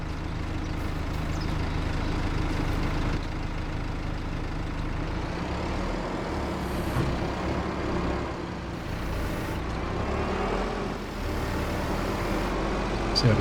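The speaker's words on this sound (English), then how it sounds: "So we're driving round and round in the tractor." Tractor engine in Farming Simulator 25, a steady droning motor hum with low rumble that holds at an even level throughout while the tractor drives round a field.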